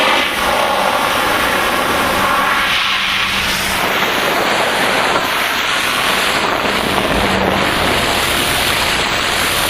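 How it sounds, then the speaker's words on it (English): Compressed air foam rushes out of a volunteer fire company's engine discharge hose, a loud, steady broadband hiss and roar over the running engine's low rumble, continuous for the whole stretch with a slight shift partway through. "there's going to be compressed air foam coming out of here for about 10 seconds"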